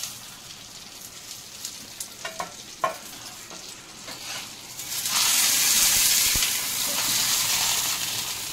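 Prawns frying in a banana leaf in a pan, starting as a low crackle with a few sharp taps and swelling into a loud, steady sizzle and hiss in the second half, close up, with no voice.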